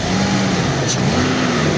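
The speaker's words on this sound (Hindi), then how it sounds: "बस हम प्लग्स लगाते हैं और इसकी वायर्स लगा के गाड़ी को स्टार्ट करते हैं।" A 2006 Toyota Land Cruiser engine, recently treated for a misfire, runs at a steady idle close by, with a constant low hum and no voices.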